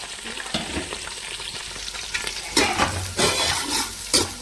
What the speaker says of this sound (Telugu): పచ్చిమిరకాయలు వేస్తానండి, ఉల్లిపాయలు కూడా వేస్తానండి.